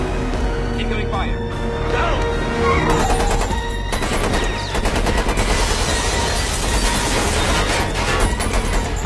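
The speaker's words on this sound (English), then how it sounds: "Incoming fire." Rapid bursts of automatic gunfire crackle through a loud freeway car chase in The Matrix Reloaded (2003), layered over engine roar, crashes and a dense film score, with voices shouting between volleys.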